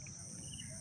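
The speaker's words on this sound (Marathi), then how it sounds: "रातकिडा हा ओरडताना" Crickets chirp at night as a faint, steady high trill, with no other sound above the quiet background.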